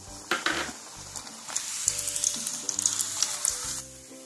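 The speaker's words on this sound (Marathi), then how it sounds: "राहिलेली डाळ याच पद्धतीने तळून घेऊया।" Moong dal frying in hot oil makes a bright, continuous sizzle with crackling pops and a few clinks of a utensil, heard under background music.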